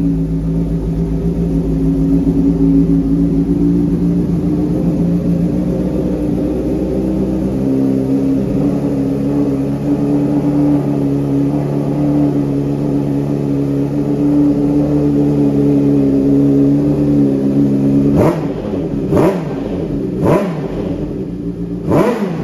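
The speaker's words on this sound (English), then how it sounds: "Let's give her a start up." A 2011 Honda CBR600F ABS sport tourer motorcycle, with a full exhaust system and the catalytic converter removed, runs at a steady close idle hum, then gets a few sharp, quick revs near the end, no talking.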